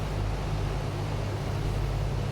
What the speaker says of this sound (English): Captain, that engine doesn't sound that great.